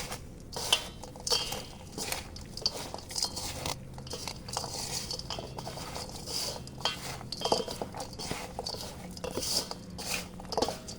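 Epsom salt and red potash fertilizer stirred together in a container with a spoon, giving repeated light scraping and clinking scratches in an uneven rhythm, close and fairly quiet.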